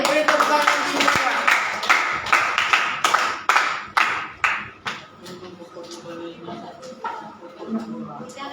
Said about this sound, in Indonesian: Beri tepuk tangan semua